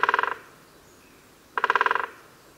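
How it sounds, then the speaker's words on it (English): Great spotted woodpecker drumming on wood in two separate rapid bursts of about ten strikes each, a second of quiet between them, fairly close and clear with no other sounds. "Yes, it's the sound of a woodpecker."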